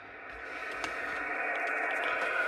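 A Yaesu FT-847 radio transceiver, recently repaired with a new band pass filter, receives a signal as a steady hiss of static and noise with faint tonal content and a few brief crackles.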